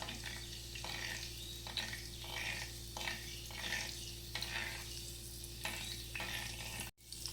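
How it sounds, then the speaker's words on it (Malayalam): Fenugreek seeds heat in oil for a spicy Kerala mackerel curry. A faint, soft sizzle carries a light periodic stirring rhythm over a steady low hum, with a brief knock near the end. "അപ്പോൾ ഉലുവ ഇങ്ങനെ പൊട്ടി വരാൻ തുടങ്ങുന്നേ ഉള്ളൂ"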